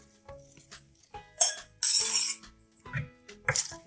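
A spoon clinks against a bowl while basil pesto sauce is added to a salad: a few sharp metallic taps scattered through a short stretch of quiet, with no one talking.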